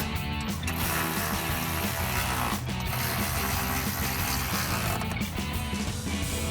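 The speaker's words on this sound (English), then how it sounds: "Grab our 13mm socket and tighten those down." A ratchet with a 13mm socket tightening running board bolts on a 2021-2024 Ford Bronco, steady mechanical clicking with a few brief pauses, close and moderately loud.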